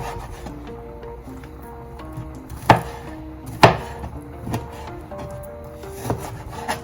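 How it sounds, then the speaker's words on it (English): Semi-defrosted fish and shrimp being cut into chunks on a board, a few sharp knife chops standing out over a faint rubbing background, close and sparse with no talk. "we will cut the pieces of the fish I have here and the shrimp into smaller chunks"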